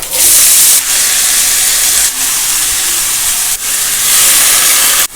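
Mustard seeds and a single chili sizzle in hot oil (ghee) with a loud, steady hiss broken by a few brief dips, close by and without speech.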